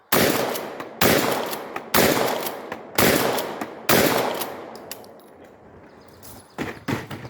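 Rapid shotgun fire from a Lynx 12 AK or a 20 gauge pump outdoors: five loud, sharp blasts about a second apart, each trailing off into a ringing decay, then a softer clatter.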